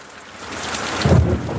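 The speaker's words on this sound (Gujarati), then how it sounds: "એ વહરાત પડે છે ઓહો એ કડાકા થયા" Thunder rolling during heavy rain, a low rumbling crack building under a steady hiss of downpour on surfaces, loud and close.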